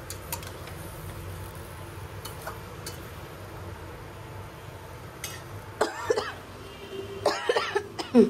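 Coughing from an adult woman in a home kitchen, a few short harsh bursts near the end, fairly close and moderately loud over low room noise.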